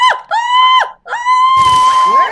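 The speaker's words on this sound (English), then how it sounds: "I turned the volume up just to make the screaming loud." Loud, shrill, strongly pitched screams from the video game Runker 51 come in two bursts, then a long sustained wail that carries over a rush of noisy game sound. No one talks over them.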